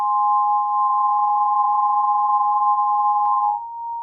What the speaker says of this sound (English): So you get a nice stereo chorus.